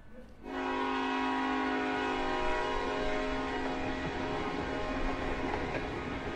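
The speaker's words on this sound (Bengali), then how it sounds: "একটু পরেই ট্রেনটা দুলুনি দিয়ে চলতে শুরু করলো" A train horn sounds as a train starts moving. After a brief low rumble, one long, loud, steady horn blast begins and holds to the end, with the rolling noise of the train underneath.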